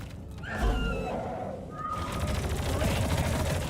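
Gunfire in the video game Deep Rock Galactic, a dense continuous rattle of shots layered with game effects and brief tonal whines, loud and sustained across the whole stretch.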